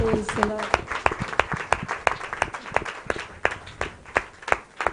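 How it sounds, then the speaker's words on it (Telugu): Church congregation clapping at a healing ministry service, a run of sharp uneven claps of moderate loudness under a preacher's voice, thinning out toward the end. "గట్టిగా చప్పట్లు కొడతాం బెంజమిన్ డేవిడ్"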